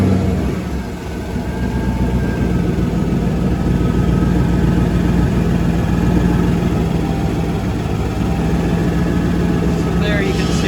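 A car engine runs steadily with a low rumbling hum, loud and close, holding an even idle throughout.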